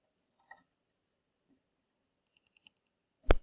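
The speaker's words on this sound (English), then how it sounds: "I'm going to attach the other end of that alligator clip to the foil" An alligator clip snaps onto aluminum foil with one sharp, crisp click near the end, preceded by a few faint ticks and tiny handling sounds in an otherwise quiet room.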